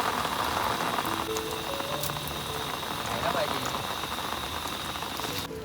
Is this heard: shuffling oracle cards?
no